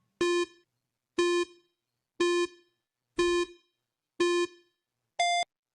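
A quiz countdown timer gives six evenly spaced electronic beeps, roughly one per second. The last beep is shorter and higher in pitch, marking the end. The beeps are loud and clear with nothing else audible.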